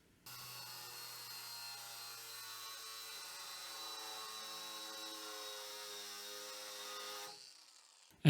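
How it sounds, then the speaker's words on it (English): A cordless Trend angle grinder cuts through a 12mm threaded rod with a continuous high whining, grinding screech lasting about seven seconds, then spins down and stops; close and steady, no talk. "The next thing we're going to try to cut is a 12mm threaded rod"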